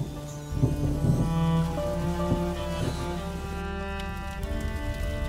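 Rain falls in the video game A Plague Tale: Innocence, a constant hiss of drops beneath sustained, tonal background music, with no one speaking.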